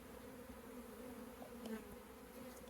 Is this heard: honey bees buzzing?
yes